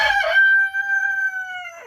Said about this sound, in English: the only chickens that aren't scared are my Buff Orpingtons